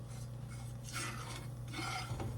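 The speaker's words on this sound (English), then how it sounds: "You wanna stir it in your grease, get all the lumps out." Flour, salt and pepper are stirred into heating bacon grease in a pan to make country gravy, a quiet scraping and rubbing of utensil against pan in a few strokes over a low steady hum.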